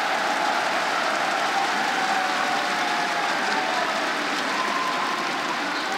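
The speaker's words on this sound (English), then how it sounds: "And just listen to that crowd" Dense, steady roar of a large esports finals crowd at a Rainbow Six Pro League event, continuous cheering and applause blended into a loud wash with no breaks, no individual voices standing out.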